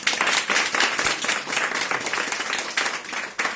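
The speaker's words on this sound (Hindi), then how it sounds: "ताली बजाए प्रभु के लिए" A congregation claps and applauds steadily at a Hindi-language church service, a dense, continuous burst of hand clapping filling the room.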